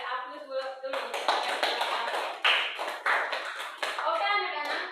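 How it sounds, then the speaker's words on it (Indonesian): A classroom of pupils clapping together at a teacher's prompt, dense broadband patter that builds after the first second and runs steadily to the end, with a few voices mixed in. "kalau tidak ada kita beri aplaus dulu"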